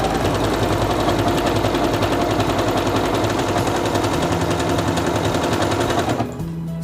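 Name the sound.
Singer Quantum Stylist 9960 sewing machine stitching elongated stitches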